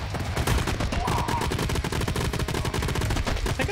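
Rapid automatic gunfire from the game Madness: Project Nexus, a loud, dense, continuous stream of shots with no pause, likely a minigun, a little faint talk underneath.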